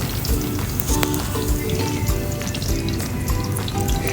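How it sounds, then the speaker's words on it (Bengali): Pieces of paneer fry in hot oil in a pan on reduced heat for Hyderabadi paneer, giving a continuous close crackling sizzle with fine popping spatters and no talk. "পনিরটা কিন্তু আমি অল্প অল্প করে আঁচ কমিয়ে কমিয়ে ভেজে নেব।"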